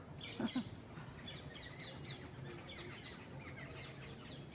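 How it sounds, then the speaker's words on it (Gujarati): Many small birds chirp together in an ashoka tree in a soft, continuous chorus. It sounds faint and somewhat distant, with no voices. "પક્ષીઓનો અવાજ આવો છે"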